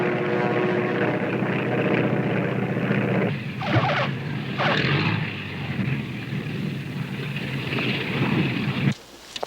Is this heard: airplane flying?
yes